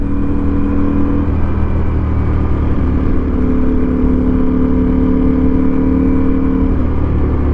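A Ducati V4S Speciale motorcycle being ridden, its engine a loud, steady, unbroken drone with strong low rumble throughout, close and alone with no talking.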